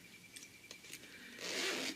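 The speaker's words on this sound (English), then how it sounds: "into my little bag, zip it up" A few light rustles, then a quick zipper on a quilted fabric pouch pulled closed in one brisk stroke, close and fairly quiet.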